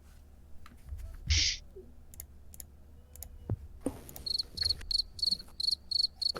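A crickets chirping sound effect played from a soundboard: short, regular bursts against a quiet background, faint at first, then louder and rhythmic toward the end.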